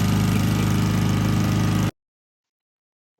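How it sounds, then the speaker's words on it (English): A lawn mower runs steadily and loudly at close range for about two seconds, its engine drone cutting off abruptly into silence. "Caught our neighbor Manuel mowing our lawn."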